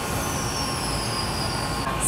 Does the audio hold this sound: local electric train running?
yes